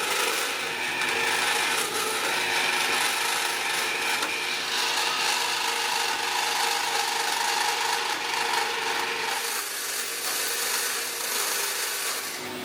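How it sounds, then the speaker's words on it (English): A variable speed bandsaw cuts a small carbon steel knife shape from a blank, giving a steady, loud, continuous whine and rasp that holds for the whole stretch, with no talking over it. "I can now use my variable speed bandsaw,"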